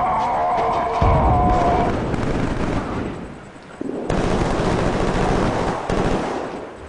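Gunfire from a weapon in the video game Killzone 3 bursts out in loud, dense volleys with booming impacts, easing briefly before surging again near and continuous, with no voices over it.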